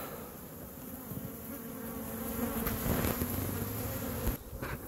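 Honeybees buzz steadily around a hive feeder at the edge of town, a dense, continuous drone that swells slightly as the bees fly close.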